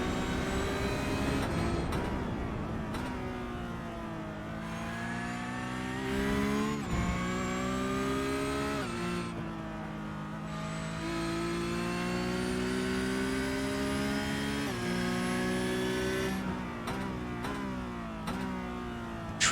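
A Porsche Cup race car in the iRTES simulation brakes hard downhill at Road America. Its engine drones loud and steady, with repeated sudden pitch drops as it downshifts into a left-hander.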